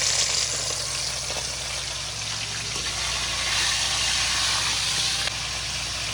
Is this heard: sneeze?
no